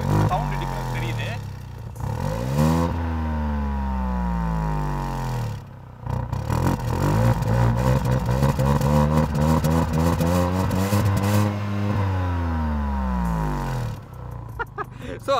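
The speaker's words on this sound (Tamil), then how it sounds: "ஸோ அந்த எக்ஸாஸ்டோட நோட் வந்து டெஃபினட்டாக ஒரு டிஃப்ரென்ஸ் இருக்குது" A Tata Altroz Racer engine runs close by, its exhaust note swelling and falling through several revs, with a loud, gravelly roar throughout.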